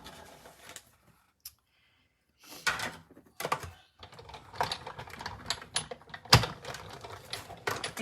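A rectangle die pressed through cardstock for a Christmas card makes irregular clunks, taps and rubbing knocks, with one sharp loud thunk near the end and a quiet pause early on.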